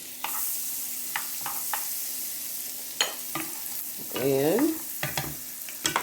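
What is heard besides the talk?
Kerrygold butter sizzling in a skillet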